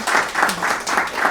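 An audience claps after a talk: steady, moderately loud applause with a pulsing texture, heard in a short burst.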